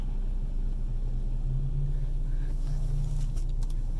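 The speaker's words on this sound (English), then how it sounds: "there's some car behind me revving the engine for some reason" A car revs its engine on a street at night, a low rumbling drone rising and swelling from a distance behind the listener, steady under wind-like background noise.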